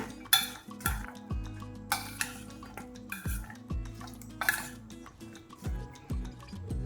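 Fruit pieces tossed together in a steel bowl for a mixed fruit rasayana, with repeated close clinks and scrapes of a spoon against metal in an uneven rhythm, no talking.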